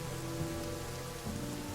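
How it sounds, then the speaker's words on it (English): Steady, dense rain hisses continuously in the fantasy strategy game The Banner Saga 2, an even wash of falling drops with a faint low rumble beneath and no voices. "I love this rain effect, too."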